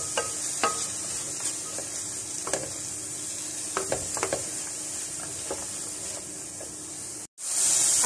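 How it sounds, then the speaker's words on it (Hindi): Onions being stirred into keema frying in a pan for samosa filling: steady sizzle with repeated scraping stir strokes, close and loud, ending in a brief cut and a burst of hiss. "प्याज डाल के थोड़ा सा मिक्स करें।"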